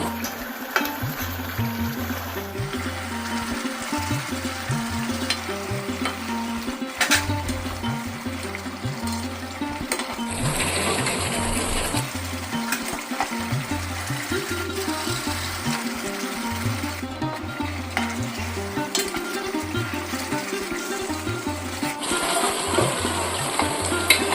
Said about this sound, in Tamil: நம்ம சேர்த்துக்கிட்ட இந்த சிக்கனை ரெண்டு பக்கமும் திருப்பி திருப்பி விட்டு நல்லா ஃப்ரை பண்ணி எடுத்துக்கணும்